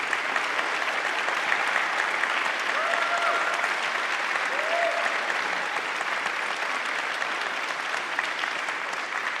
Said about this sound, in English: So how about a round of applause for these musicians?